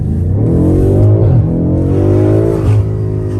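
A sports car engine revs hard and loud, bouncing repeatedly off the rev limiter in a sustained, pulsing roar close to the listener, with no voices.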